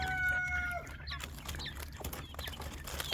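Quail clucking and chirping in short bursts over a steady low hum, with thin high whistled notes at the start, close and moderately loud, no talking.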